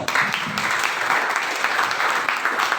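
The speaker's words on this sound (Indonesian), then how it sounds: "Berikan tepuk tangan sekali lagi untuk paslon nomor 1" An audience claps at a school student council candidate debate, giving dense, continuous applause close by at an even level, with no pause.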